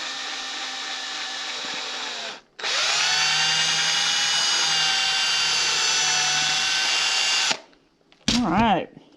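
Power drill boring into a poplar wood birdhouse, two sustained, loud whining runs separated by a brief pause, then a short burst of speech.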